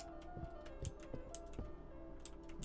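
Sparse clicks sound in Fear The Timeloop, a Resident Evil-inspired horror video game, spaced irregularly about half a second apart, each a short faint tick over a low ambient drone, with no talk.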